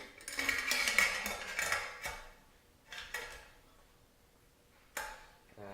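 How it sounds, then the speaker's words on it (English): A metal lid is set onto a homebrew beer keg, giving a cluster of close clanks and scrapes followed by a few sharp metallic taps spaced apart in a quiet room. "So next thing I'm going to do is put on the lid"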